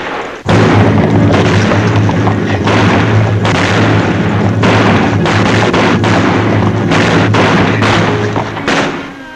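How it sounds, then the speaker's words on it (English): Cowboys firing their guns in a 1952 western film, a rapid burst of loud booming shots, many overlapping in a continuous volley for several seconds, with no talking. "That's the cowboys riding off the range, having a little fun shooting their guns off."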